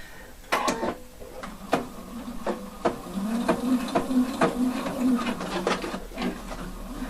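A sewing machine stitches jeans fabric for a button fly, giving repeated sharp mechanical clacks in irregular bursts with a short humming run in the middle, close and fairly quiet.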